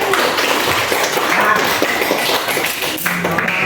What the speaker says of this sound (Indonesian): Oke, luar biasa, tepuk tangan dong.